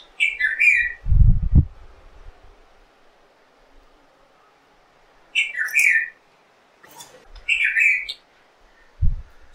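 A bird outdoors gives three separate bursts of high, chirping calls, with a few dull thumps in between and quiet pauses between the calls.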